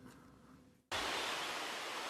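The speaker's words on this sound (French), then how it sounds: "On arrive sur une cascade qui est bien chouette là" Waterfall on a forest hiking trail at Baume-les-Messieurs in the Jura, heard as a steady, loud broadband rush of falling water that cuts in abruptly after a quieter outdoor stretch and then holds unbroken.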